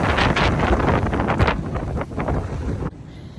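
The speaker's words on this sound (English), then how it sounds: "The wind is absolutely insane." Strong wind buffeting a tent at night along the Appalachian Trail in Georgia, a loud roaring rush with gusty surges that eases slightly toward the end, close to the microphone.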